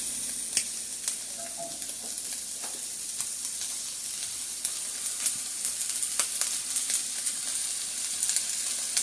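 Chicken stock (yakhni) hits a hot pot of roasting mixed vegetables for chicken soup, raising a steady close sizzle and hiss with scattered crackles and pops, with no talk over it.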